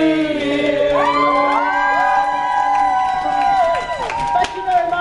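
A hen night audience cheers and whoops after a live song at a compere's show, a dense crowd roar of voices rising and sustained close by, with some clapping mixed in.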